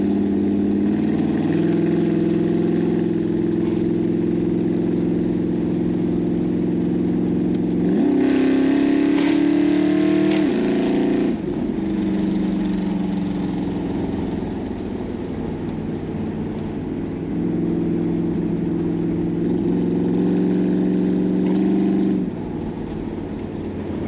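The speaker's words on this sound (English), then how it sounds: "Downshifting lovely, and she's going through all the gears" A car with a newly fitted Mopar A727 automatic transmission is test-driven, its engine droning loud and close, rising in pitch through the gears with a sharp rev in the middle and shifts between steady stretches.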